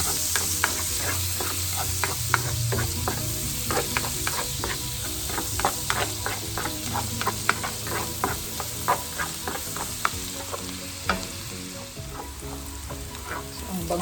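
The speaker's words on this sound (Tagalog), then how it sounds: "Maraming garlic guys. I-saute natin ang garlic." Garlic sautés in butter in a pan for shrimp, a steady close sizzle with crackling pops scattered through it, continuous and alone without talk.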